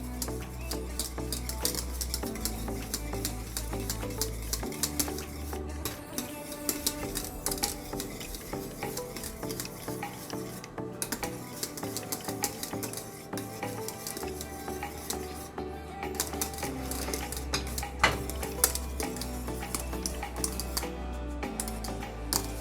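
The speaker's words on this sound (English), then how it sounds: "you're just going to whisk that together until the butter melts" Whisk stirring soft butter and vanilla in a pot, a busy run of scraping and clinking metal against the pan with light sizzle underneath, steady and close without talking.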